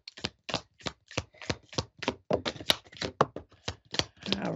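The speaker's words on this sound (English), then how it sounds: "Got some cards flying out here." A deck of tarot-style cards is shuffled by hand in quick, steady riffles and slaps, each burst crisp and close, repeating rhythmically for several seconds with no talking.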